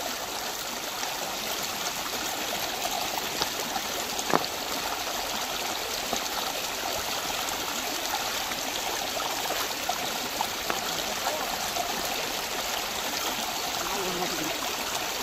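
Irrigation water streams through a furrow in a sugarcane field with a continuous soft trickle and splash, a faint thump partway through, nearby and steady, without speech.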